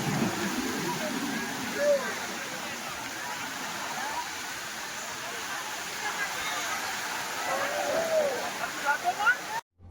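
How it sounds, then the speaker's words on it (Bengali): Sea waves at Digha beach roll and wash ashore in a steady broadband roar, with surges swelling and breaking repeatedly near the end, close and fairly loud. "আর ঢেউ দেখছো বস,"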